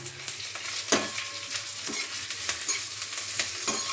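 Kashmiri chili powder and spices hit hot oil with onion and garlic paste and crackle into a close sizzle, with sharp spatula taps and scrapes against the pan at irregular intervals and no talking.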